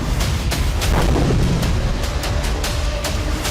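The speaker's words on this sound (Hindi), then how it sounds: "इसके बाद इजरायली सैन्य ठिकाने पर धमाके हुए।" Rumbling booms and repeated sharp cracks of explosions at an Israeli military base after a drone strike, through a roaring, wind-buffeted background, several blasts spread across a few seconds.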